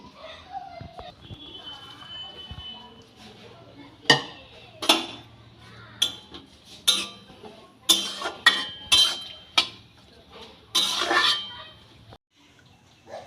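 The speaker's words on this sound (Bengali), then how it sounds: "হালকা উষ্ণ উষ্ণ জলে আমি এই ফুলগুলো ধুয়ে নিচ্ছি" Drumstick flowers are washed in warm water in a pan, giving a run of sharp metallic clinks and light splashes, with a quiet voice early on.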